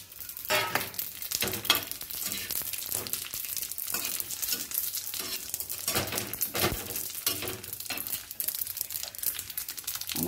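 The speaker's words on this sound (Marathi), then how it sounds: "मिरी लवंग उडते ना." Black pepper and cloves fry in a pan, giving off a rapid, irregular crackle of sharp pops and spits over a soft sizzle, fairly faint and close by.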